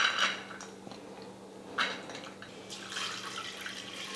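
Water added to 50 grams of washed chana dal in a pressure cooker, heard as a few light splashes and drips with faint clinks of the metal pot, close and fairly quiet.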